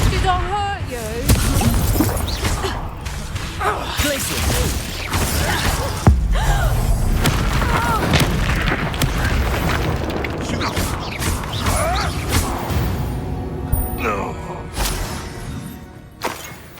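Confringo blasting spell bursts in the Hogwarts Legacy video game: repeated booming, shattering blasts and crashes over a dense, loud game soundscape, with a voice talking throughout.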